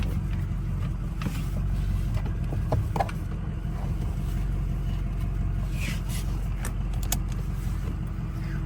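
A Ford F350 diesel pickup truck being driven, heard from inside the cab as a steady low engine drone and road rumble with faint rattles and clicks over it.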